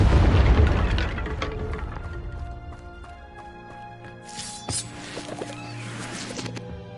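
Confringo spell explosion in Hogwarts Legacy, a heavy booming blast that decays into a long rumbling tail with scattered crackles and a later burst of debris-like noise.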